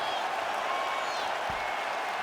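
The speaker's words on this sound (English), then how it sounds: "Stand and cheer, ladies and gentlemen." Arena crowd at a UFC event roaring and applauding after a fight goes the full 25 minutes, a dense, continuous wash of cheering and clapping at steady loudness throughout.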